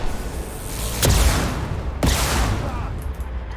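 Two sharp gunshots ring out about a second apart in the video game Mass Effect 2. Each loud crack is followed by a short decaying tail over a low background hum.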